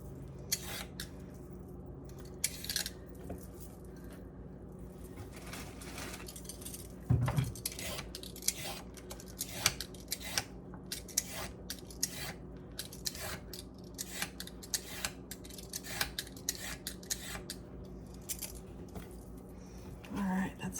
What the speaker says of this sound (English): all the carrots, all the celery. I'm just gonna cut off the top.